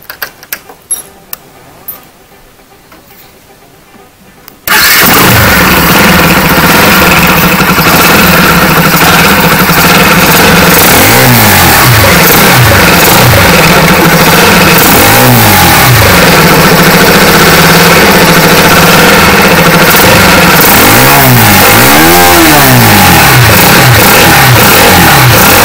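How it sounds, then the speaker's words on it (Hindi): A Bajaj Pulsar NS 200 motorcycle fitted with a K&N air filter starts after a few quiet handling noises, then idles loudly and close up with several sharp throttle revs rising and falling. "बाइक स्टार्ट कर लेते हैं, बाइक स्टार्ट करके देखते हैं।"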